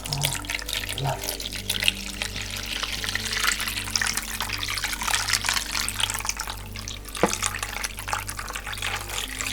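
Warm water from a billy is poured into a bowl with rose bath milk for a hand soak, giving a close, steady trickling splash with a soft background hum.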